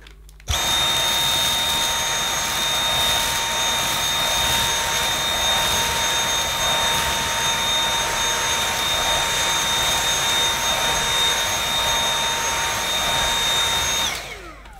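A Dyson V7 Motorhead cordless vacuum cleaner runs on suction only with the combi tool at its regular setting, giving a steady, loud, close whine with a high tone that holds for about fourteen seconds before switching off.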